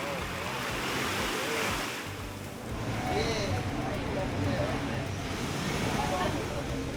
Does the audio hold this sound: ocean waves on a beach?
yes